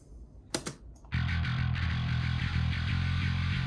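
A few sharp clicks, then a sustained, heavily distorted heavy metal guitar tone rings out steadily with a bright, fizzy upper edge from a high-band distortion effect.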